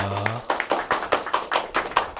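Applause at an elementary school student council appointment ceremony, a short run of evenly spaced, sharp claps with a single voice briefly audible at the start.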